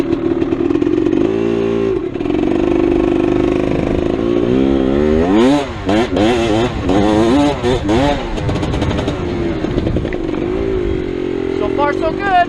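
A GasGas EC300 Lectron dirt bike engine, loud and close, idling steadily, then revving up and down in several rising and falling bursts before settling back to idle.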